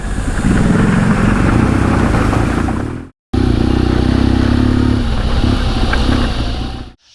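Harley-Davidson Pan America adventure motorcycle ridden off-road, its engine droning loud and steady with rumbling low tones, cut by a brief silent gap before the engine sound resumes and fades at the end.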